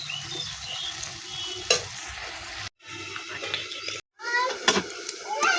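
Boiled potatoes frying in a pan as they are stirred, giving a steady sizzle with scraping stir strokes and a couple of brief gaps. A voice speaks over it.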